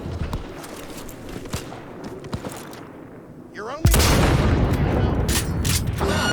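Gunfire in the video game Cyberpunk 2077 erupts suddenly after a quieter stretch of footsteps and ambience, loud overlapping shots and booms continuing rapidly to the end, with a player talking in places.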